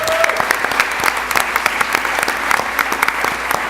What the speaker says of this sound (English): One more round of applause for the judges, the finalists, and yourselves.